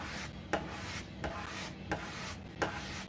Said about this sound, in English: I'm literally shaving the wood with the razor, essentially.